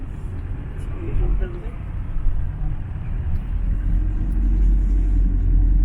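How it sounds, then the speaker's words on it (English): Early morning road traffic in Belfast heard from inside a moving car, a steady low engine and road rumble that swells slightly toward the end, with no distinct horns or passing vehicles. "So, a bit of early morning traffic in Belfast."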